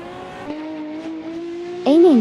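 Porsche 917 race cars in a racing game, a steady engine drone holding a sustained tone, then a louder rising rev and tire whine near the end, with a voice commentating over it.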